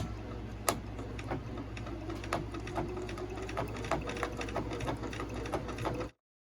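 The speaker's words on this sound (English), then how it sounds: "we're going to take our time and do a nice, pretty triple top stitch" A sewing machine runs a slow triple top stitch on a zippy bag, a steady close mechanical hum with regular needle ticks for about six seconds before stopping abruptly.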